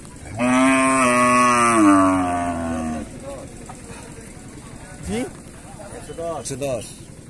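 An Australian breed cow lets out a long, loud moo close by at a cattle market in Bangladesh, followed by people talking.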